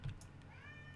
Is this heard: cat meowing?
yes